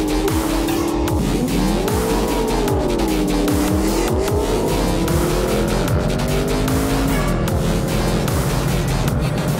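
At Holley LS Fest East 2024, a race car's tires squeal in long wavering howls over a loud, continuous engine roar, close and sustained throughout.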